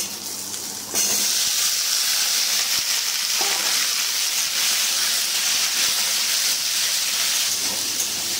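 Pumpkin, carrot and papaya fry in a pan with potatoes for a vegetable dal, giving a steady, close sizzle and hiss that jumps up after a quiet first second and continues unbroken, with faint stirring taps.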